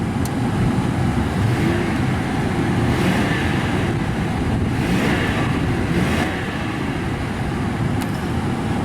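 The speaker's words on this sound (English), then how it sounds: "Pretty nice exhaust note" A stock Ford Mustang with a 4.6 liter V8 and single exhaust drives along, giving a steady low rumble with road and tire noise. The sound is moderate and muffled, with small surges in volume.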